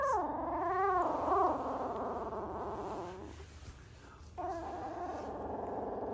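Small high-pitched whimpers and squeaks from newborn Doodle puppies, wavering and overlapping, with soft rustling underneath.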